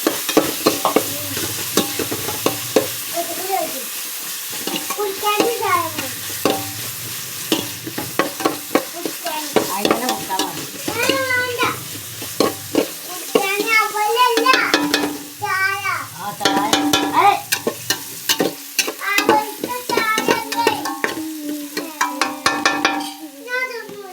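Chicken frying in a home-cooked pan gives a continuous sizzle, while a utensil stirring and scraping through it makes repeated rhythmic strokes, with voices talking in the background.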